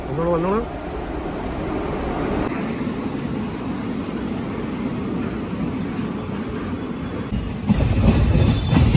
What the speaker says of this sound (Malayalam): Train number 16605 from Bangalore Central to Thiruvananthapuram Central.